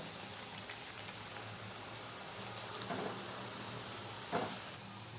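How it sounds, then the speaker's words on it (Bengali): Semolina biscuits deep frying in hot oil give a steady, faint, broadband sizzle, with two soft bubbling bursts near the end. No voices. "সব সুজির বিস্কুটগুলো ফুলে উঠেছে, এবারে লাল লাল করে আমি ভেজে নেব।"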